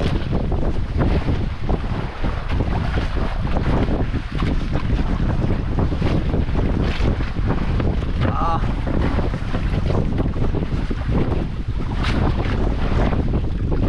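A boat out on open water in rough conditions, with heavy wind buffeting the microphone and waves washing constantly. The noise is loud and unbroken, and a voice can be faintly heard under it.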